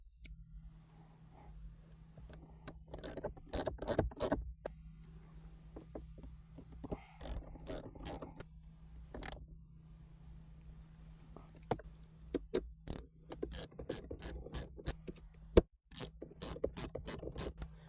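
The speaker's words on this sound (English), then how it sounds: "we're going to reinstall the 4 bolts to hold the shifter on to the floor." Ratchet tightening the four bolts that hold a pistol-grip 6-speed shifter to the floor of a 2016-17 Chevrolet Camaro LT, heard as quiet clusters of sharp clicks in irregular bursts over a steady low hum, close by, with no talking.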